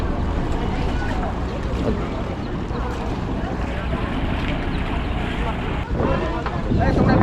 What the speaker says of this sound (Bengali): এই যে ট্রলারটা আসছে দেখুন